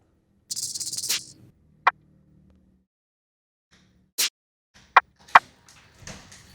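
Sparse trap beat percussion hits: a bright shaker burst, short sharp rattles and clicks, spaced irregularly with gaps of silence between them.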